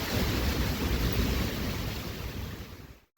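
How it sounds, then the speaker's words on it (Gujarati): Heavy rain driven by strong wind pours down over farm fields, with water striking the camera, a loud, steady roaring wash that cuts off abruptly at the end. "વરસાદ છે હારે છે ને પવન ને ગાજરી સાથે છે"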